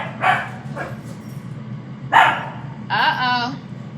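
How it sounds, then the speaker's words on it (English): A dog barks outdoors in short separate bursts, some yelping and some whimpering, moderately close and clear against a quiet background with no talking. "You guys hear my dog?"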